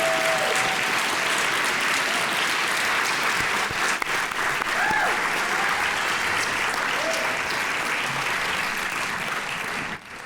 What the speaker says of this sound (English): please give a round of applause to Annie, Elizabeth, and our entire team